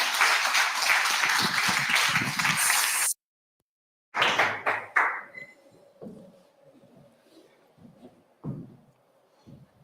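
An audience at a book presentation on direct democracy in Chile applauds in a dense burst that cuts off abruptly, followed after a silent gap by a few scattered claps and faint room noise.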